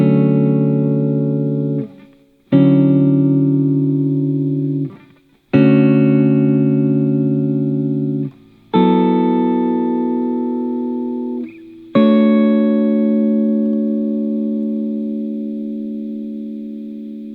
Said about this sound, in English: here are all the 7th chord voicings that I like to use with the root on the 5th string